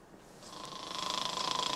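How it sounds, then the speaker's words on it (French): A man snores in a film scene, the rasping breaths building from quiet to a steady, fairly close rhythmic snore with no talking. "Lui, il doit faire exprès de ronfler."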